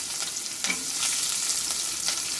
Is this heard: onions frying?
yes